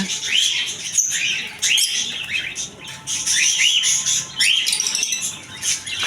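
Albino cockatiels and other pet birds in a bird room, repeated bright chirps and rising whistled calls overlapping in bursts, fairly close, with a faint hum behind them.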